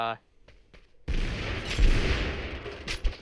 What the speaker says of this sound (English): I do, however, have a splinter grenade, which I will be giving to them in